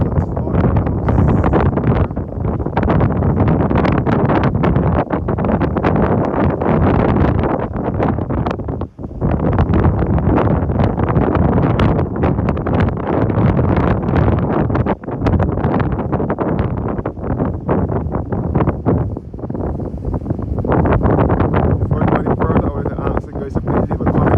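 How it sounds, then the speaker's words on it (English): Strong breeze at Ragged Point lighthouse in St. Philip, Barbados, buffeting the microphone in loud continuous gusts, with brief dips and rough rumble throughout. "You can feel the breeze blowing sweetly up here as well."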